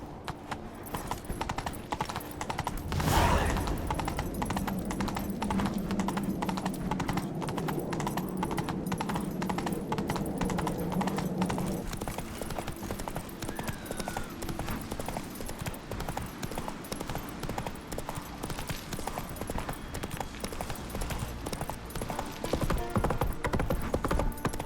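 Horse hooves clip-clopping at a steady trot in The Witcher 3, a continuous rhythmic beat under game ambience and music, with a brief loud burst near the start.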